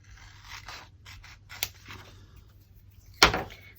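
Scissors snipping through a decorative paper napkin while a journal page is decorated, a few faint crisp cuts ending in one sharper, louder snip near the end, close by with no talking.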